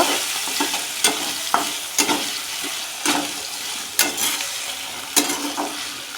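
Potatoes sauté in spiced oil in a pan with a steady sizzle, broken by about half a dozen sharp, spaced scrapes and clatters of stirring, close and fairly loud, with no voices.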